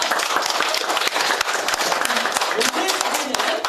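Audience applause for a contestant at a knowledge competition in Korea, dense steady clapping throughout with crowd noise and a few sharper claps standing out.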